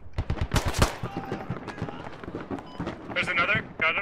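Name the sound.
machine gun fire in the video game Squad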